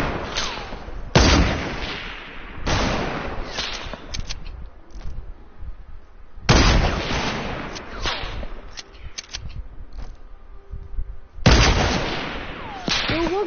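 Gunfire in the Fortnite video game: loud, booming shots fire singly and in clusters at irregular intervals, each trailing into a rumbling echo, with no talking over them.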